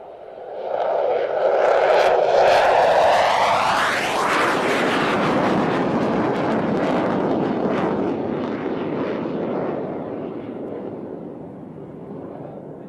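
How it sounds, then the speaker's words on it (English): F-15 fighter jets fly over after an aerobatic display, a loud roaring rush that swells quickly, sweeps past with a falling pitch, then trails off into a long fading rumble. "F-15s."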